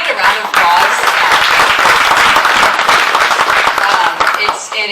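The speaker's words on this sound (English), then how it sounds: "Can we get a round of applause?" A town hall crowd claps enthusiastically, a dense burst of applause that swells quickly and holds steady before tapering slightly at the end.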